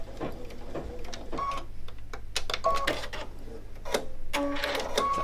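Brother Luminaire Innovis XP1 sewing machine stitching a short securing stitch at the start of a patchwork seam, a close run of mechanical clicks and whirring with beeps, steady and fairly loud.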